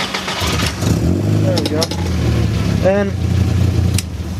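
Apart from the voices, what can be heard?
VW Golf MK4 engine started with a screwdriver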